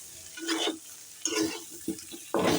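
Cauliflower with cumin, chilli, turmeric and ginger paste is stirred and fried in a pan, giving three separate bursts of scraping and sizzling with short quiet gaps between them. No one speaks.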